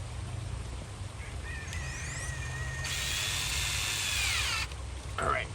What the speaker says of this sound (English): Let's start drilling a little hole.